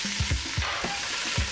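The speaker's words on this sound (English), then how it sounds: "Hear it sizzle?" Chicken pieces sizzle in a very hot, almost smoking pan, a steady close hiss of frying with a few low knocks and stirring sounds under it.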